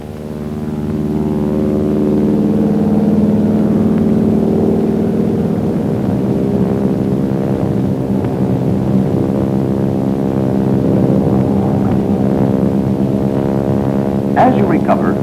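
A North American Aviation T6 airplane engine drones steadily through a loop maneuver, a loud, sustained roar that holds for the whole stretch while someone speaks over it.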